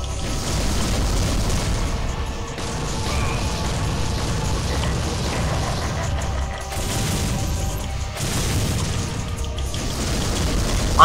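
Cannon fire and explosions from a boss fight in Devil May Cry on PS2 sound as dense, continuous booms and crashing bursts with mechanical clatter, loud throughout with a few short lulls.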